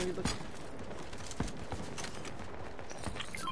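Distant gunfire from other players in Fortnite, scattered cracks and pops around a forecast tower, faint under a steady game ambience with a few sharper nearby hits.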